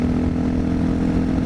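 Honda XR650L dual-sport dirt bike on knobby tires climbing a curvy mountain road, its single-cylinder engine droning steadily and close with a rough, buzzing note and constant wind rush.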